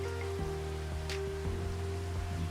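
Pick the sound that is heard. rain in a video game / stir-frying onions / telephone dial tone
rain in a video game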